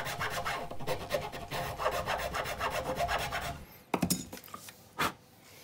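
A file rasps lightly across the string slots of a replacement guitar nut, setting each groove to the string's gauge, with steady back-and-forth strokes and then a few short, separate scrapes near the end.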